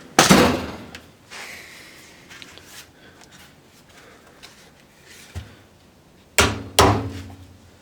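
Sharp metallic hammer knocks tapping a cap onto a lawn mower's mulch door: a loud one at the start, a few lighter taps in between, then two firm strikes close together near the end.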